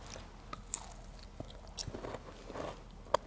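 Crunchy bites into a buttery pasticcino with buttercream, chocolate and sea salt: several sharp, close crackles spread over a few seconds, followed by soft chewing.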